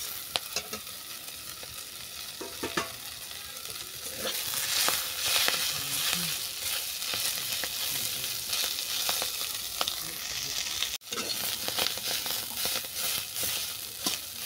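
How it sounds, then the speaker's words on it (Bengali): Fenugreek greens fry in a pan with garlic and black cumin, giving a steady close sizzle with frequent stirring clicks and scrapes and a brief drop in sound near the end. "দেখো শাকটা ভালো করে ভাজা হয়ে গেছে।"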